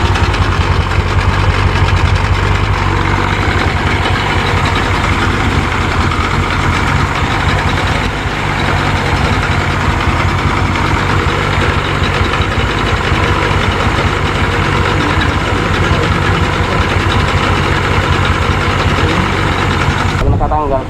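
A Yamaha 50HP two-stroke outboard motor runs at idle with a loud, steady, rough drone that continues unbroken throughout. It sounds close, and people talk over it.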